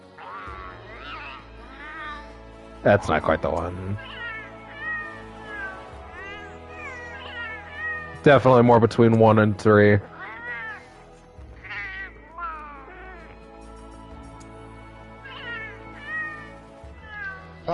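Cat-like meowing chatter from Palico companions in the video game Monster Hunter, bursts of meows and caterwauls around three and nine seconds over steady talk and game music.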